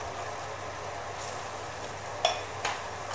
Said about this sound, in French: La sauce, je mélange.